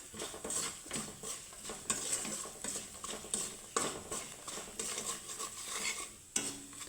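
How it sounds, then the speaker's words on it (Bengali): Turmeric and chilli powder fry in a pan while a utensil stirs them, making quiet, repeated scraping and clinking strokes over a faint sizzle. "এখন আমি ভেজে নেব যাতে মশলাটা পুড়ে না যায়"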